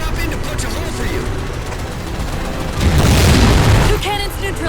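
Heavy booming cannon blasts in the Halo 4 video game, a dense low rumble swelling loudly in the middle, mixed under game dialogue and battle noise.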